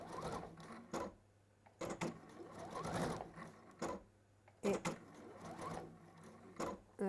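A sewing machine runs in short bursts of just a few stitches at a time, each brief mechanical whir separated by pauses, close and fairly quiet, with no talking.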